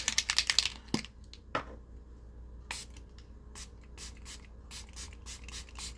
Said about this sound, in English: I'm just gonna spray the side of my face right quick.